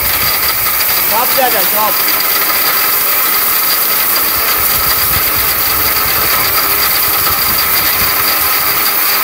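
A powerful steel blender grinds whole turmeric with a loud, continuous rattling whir that holds steady throughout. A voice speaks briefly near the start.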